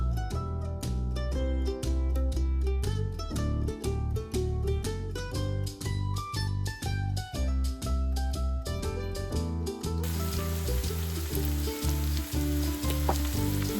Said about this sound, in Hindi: दो 4 मिनट तक सहजन को मैंने आलू के साथ बढ़िया से भून लिया है।